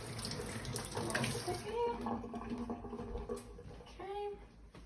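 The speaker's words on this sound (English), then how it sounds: "All right, I'm going to wash my fingers off." Water runs from a kitchen tap as fingers are washed under it, a soft steady splashing heard close but quiet, with brief voice-like sounds near the end.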